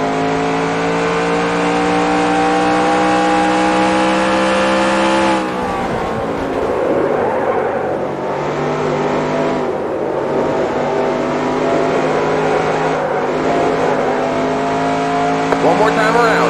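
Race car engine in the NASCAR Racing 2003 sim game, a loud sustained high drone that drops in pitch and shifts through gear changes as the car enters a turn, steady throughout with tire noise.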